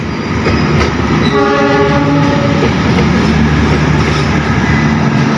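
Pangrango passenger train running from Sukabumi toward Bogor at Cicurug station, a loud close rumble of wagons with a sustained horn blast through the middle.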